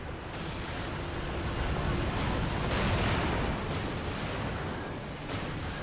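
Cannon fire on a battlefield, with Ottoman guns against armored knights: a continuous dense roar of distant booms and rumbling blasts, several heavier bursts swelling through the middle without a break.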